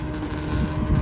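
A boat engine runs steadily with a low, rumbling drone and some wind buffeting, close and loud for the whole stretch, with no talking.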